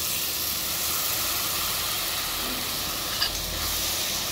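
Spice paste with chili sizzling and frying in a pot for home-style mutton curry, a loud continuous hiss with a faint stirring knock near the end.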